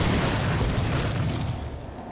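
Heavy booming gunfire from a .50 caliber weapon in the video game DC Universe Online, a dense low rumble of rapid blasts that stays loud throughout and fades slightly toward the end.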